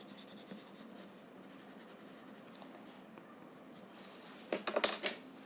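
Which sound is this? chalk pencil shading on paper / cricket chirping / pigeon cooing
chalk pencil shading on paper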